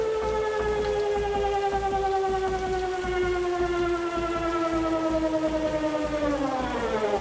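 A Danish emergency alert siren wails loudly and steadily. Its tone slides slowly downward over several seconds above a dense, rain-like crackling texture, with no speech.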